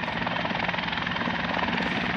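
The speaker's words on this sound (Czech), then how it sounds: "Míříme tamhle do zakázané zóny, kde lítají vrtulníky a hasí se největší požár ever" A firefighting helicopter battling a large barn fire flies close overhead, its rotor thudding loudly and steadily throughout.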